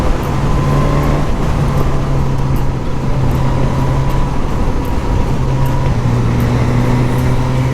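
Suzuki GSX S1000 motorcycle ridden on an open road, with a steady, loud engine and wind drone running throughout and pitch holding then shifting slightly as quick-shifter gear changes go through without the clutch.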